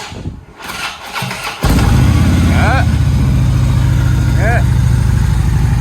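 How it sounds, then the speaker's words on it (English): The engine of a salvage-auction 2016 Ultra Limited starts up abruptly and settles into a steady, deep idle, with a couple of brief revs rising over the rumble; voices are heard beforehand. "The engine and stuff sound real good."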